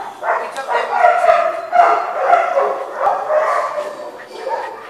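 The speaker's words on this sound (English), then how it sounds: "That's Sultan, Fox Terrier." A Fox Terrier gives a run of close, yipping barks and whimpers, repeated every half second or so, with a person's voice mixed in alongside.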